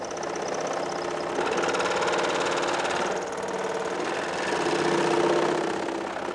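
A vibration tester shakes aircraft electronic equipment mounted on it, producing a continuous mechanical buzzing rattle with a fast pulsing texture, steady and moderately loud throughout, with no talking.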